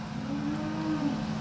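Cattle on a farm lowing in a long sustained moo, loud and fairly close, with faint background noise and no talk.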